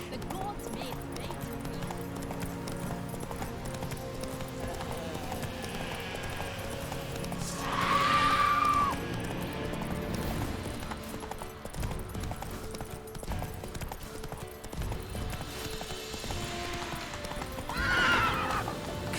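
A horse gallops in The Witcher 3, a steady drumming of hooves running continuously under game ambience, with two loud whinnies breaking through partway and near the end; a voice briefly speaks over it.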